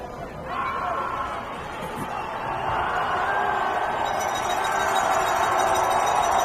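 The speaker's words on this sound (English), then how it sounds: "And the crowd gets loud." Crowd noise at a high school football game, Lone Peak at Corner Canyon, swelling steadily from a moderate roar into loud sustained cheering across the stands.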